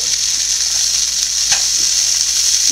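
Green gram and curry leaves fry in a pan for a Kerala cherupayar stir-fry, making a loud, steady, close sizzle with a faint stirring scrape midway and no voices.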